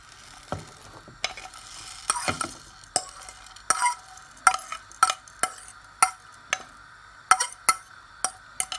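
Spices being mixed into gram flour batter for onion pakoras make a series of close, irregular scraping and tapping strokes against a bowl, about a dozen distinct hits over quiet background.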